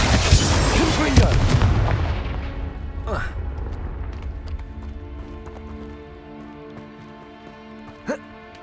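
Spell explosions in the Hogwarts Legacy video game: a loud, dense burst of booming blasts opens, then decays into a scattered tail of lighter impacts and crackles, with one more sharp blast near the end.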